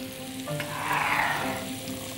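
Butter melts and sizzles in a wok, a soft, even frying hiss that swells slightly in the middle of a brief moment, close and without talk.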